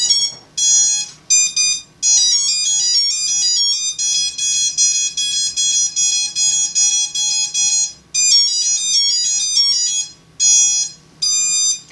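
The electronic speed controller of a drone beeps through its calibration sequence. Loud, high electronic tones come in quick repeated bursts, rising and falling tone runs and short pauses, with nobody talking.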